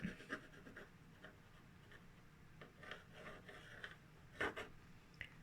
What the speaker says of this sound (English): use a bit of an eraser and tone it down